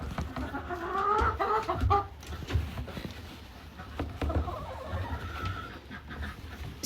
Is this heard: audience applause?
no